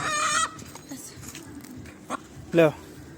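A rooster caught by boys in an Angolan village gives a few loud, close squawks and clucks, one burst at the start and another sharp cry near the end, with quieter movement and noise between.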